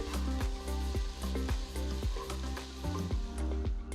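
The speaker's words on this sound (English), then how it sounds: "After 2 minutes, add a bowl of cauliflorets and mix." Potatoes and medium cauliflower florets sizzle in a hot pan while being stirred, with a steady frying hiss and a regular series of close scraping strokes of the spoon against the pan, no voices.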